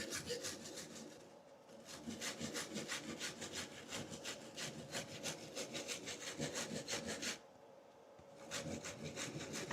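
Steady back-and-forth scraping of a lemon rubbed over a flat microplane grater, close and continuous with a couple of brief pauses.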